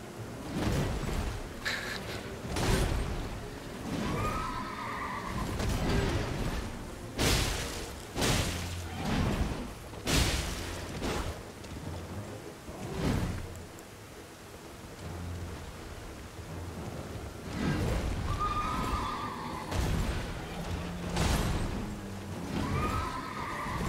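A voice imitates a horse's neigh during Elden Ring gameplay: two drawn-out whinnies, one early and one late, over a steady rumbling, rain-like game backdrop with scattered thuds.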